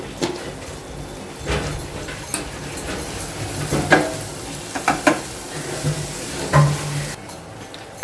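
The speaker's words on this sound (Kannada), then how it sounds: "ಸ್ವಲ್ಪ ಆಯಿಲಲ್ಲಿ ಚೆನ್ನಾಗಿ ಇದನ್ನ ಫ್ರೈ ಮಾಡಬೇಕು." Onion, tomato and masala with turmeric fry in oil, sizzling steadily under repeated scraping stirs of a spoon against the pan, close and fairly loud.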